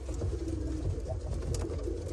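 Felikazi pigeons, foreign-ringed show birds at a pigeon farm auction, coo in low repeated throaty phrases, several birds close by over a steady murmur of the loft.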